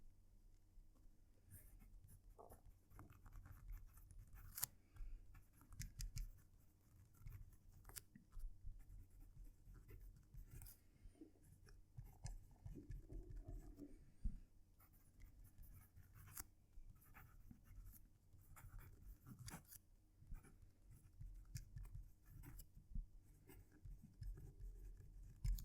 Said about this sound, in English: I'm going to move the mic as close to the paper as I can so you can hear me writing.